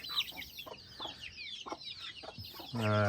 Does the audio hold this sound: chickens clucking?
yes